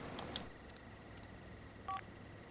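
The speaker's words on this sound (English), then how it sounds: "now we're going to get on the phone and move him" Telephone dialing in The Sims video game: a short electronic beep, a brief pause, then a second dial tone over quiet background hum.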